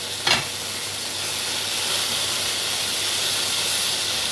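Garlic and eggplant sizzle in a hot pan for pickled eggplant, a loud, steady, broadband frying hiss that runs throughout after a brief clatter near the start.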